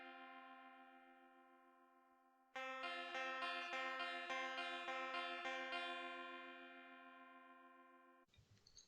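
A sustained, buzzy distorted electric guitar chord through a Fender amp rings out, briefly fading before a second strummed chord swells and slowly decays.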